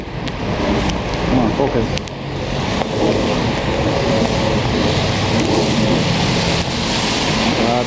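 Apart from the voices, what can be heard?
rain falling while driving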